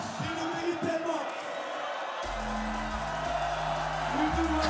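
A crowd cheers at the FISE Montpellier BMX freestyle spine ramp pro men's final: a steady, broad roar from spectators that swells toward the end, running under an announcer's voice.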